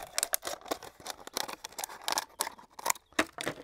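Scissors snip and crunch through a plastic bottle in a fast run of sharp cuts, close and fairly quiet, with no talking.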